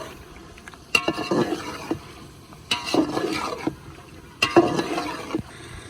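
About three kilograms of boiled beef frying with masala in oil, stirred in three separate bursts of scraping and sizzling, each a second or two long, with a quiet low sizzle in between.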